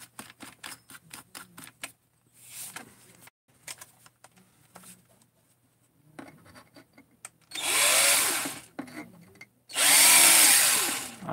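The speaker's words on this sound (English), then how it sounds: "Maybe it gives enough just to see if I can get a drill started" A power drill bores into a metal part in a workshop, two loud sustained whirring runs near the end, preceded by quieter tapping and handling sounds.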